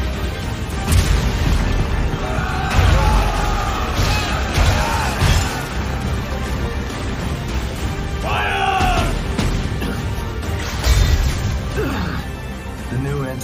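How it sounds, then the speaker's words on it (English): Heavy booms and crashing impacts of exploding anti-Titan cannon shells in Attack on Titan repeat amid a loud, dense battle din, with shouting voices mixed in. "Anti-Titan shells. They can even pierce my armor."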